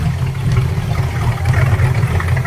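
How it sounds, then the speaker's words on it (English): An engine idles at about 700 RPM, a loud, steady low rumble with an even throb, heard alone and close. "Idling at about 700 RPMs."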